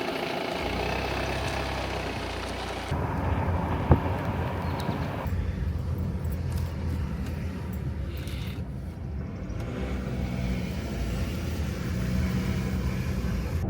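A car drives through small rural villages, its engine a steady low rumble with road noise throughout, one brief knock and no talking.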